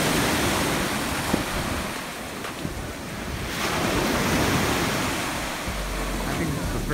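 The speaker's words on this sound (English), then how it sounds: "I took some footage of the dunes, the sand, the water" Ocean surf rolling onto a sandy beach with dunes, a steady loud wash of waves mixed with heavy wind buffeting the microphone throughout.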